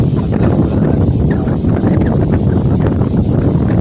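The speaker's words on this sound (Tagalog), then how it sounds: "Sobrang lakas din po ng hangin." Strong wind blows at a fishing spot, buffeting the microphone with a loud, continuous low rumble and rushing noise that never lets up.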